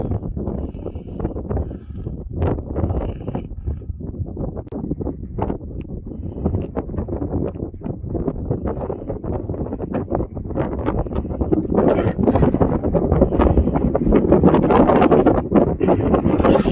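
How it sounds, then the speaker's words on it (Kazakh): Strong gusty wind at an outdoor shooting range buffets the microphone in loud, continuous low rumbling bursts that swell stronger toward the end, with no talk. "Күн қатты жел"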